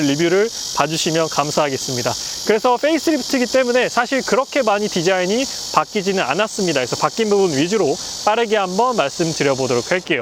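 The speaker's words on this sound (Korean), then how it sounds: "비가 오고 난 다음이라서 지금 매미가 힘차게 울고 있는데" Cicadas sing loudly after rain in a steady, dense high-pitched buzz that fills the whole stretch, while someone talks continuously over it close to the microphone.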